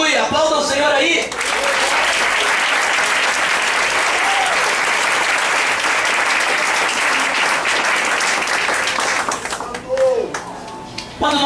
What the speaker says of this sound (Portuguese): Aleluia, aplauda o Senhor aí.